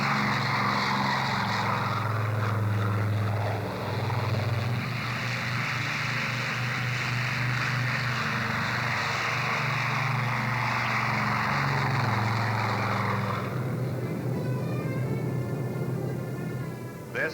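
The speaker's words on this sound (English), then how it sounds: "made ready to be flown to the Korean battle area in Air Force C-54s and C-47s" Propeller-driven Air Force C-54 and C-47 transport planes drone steadily in a loud, continuous engine roar that holds for most of the span before easing toward the end, with no talk over it.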